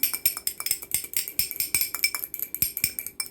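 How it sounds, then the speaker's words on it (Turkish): A fork whisks an egg in a bowl, making rapid, rhythmic metallic clicks and taps, steady and close, with no talking. "Hemen yumurtamı şöyle bir çırpıyorum çatal yardımıyla"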